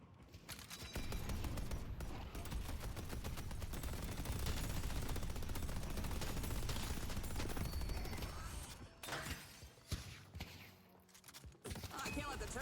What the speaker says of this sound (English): Time for some heavy ordnance.